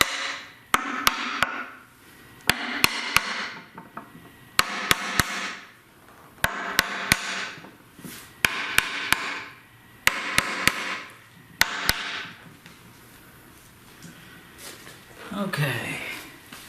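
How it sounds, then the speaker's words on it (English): Small brass hammer tapping a GM 9.25 front differential part into place in a Chevy/GMC 3/4–1 ton truck rebuild, sharp metallic taps in quick pairs and short bursts, repeated several times, near and clear between stretches of talking. "Take a little brass hammer, wherever that's at."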